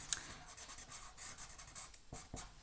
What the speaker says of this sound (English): maybe I'll color in the nose. And I might color in this part, the inside of the ear